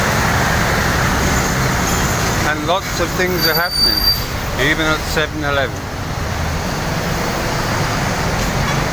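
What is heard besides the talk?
busy morning street traffic with buses in Bawang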